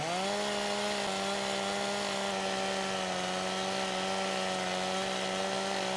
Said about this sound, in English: Cutting it down, cutting them all down with a chainsaw.